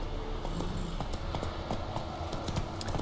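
Steady clip-clop of horse hooves trotting at an even rhythm, mixed into a dense soundscape from the video game The Witcher 3, with no talking.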